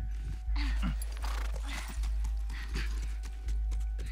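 A horse in The Last of Us game snorts and whinnies while its hooves clop in a steady rhythm of repeated footfalls, fairly close and clear.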